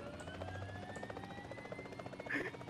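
Helicopter in a video game, a steady rotor drone with a rising whine heard at moderate distance, with a faint voice over it.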